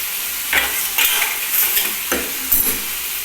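Pre-boiled noodles being tossed and stirred in a hot sizzling pan for butter noodles, a constant frying hiss broken by several scraping stirs, loud and close.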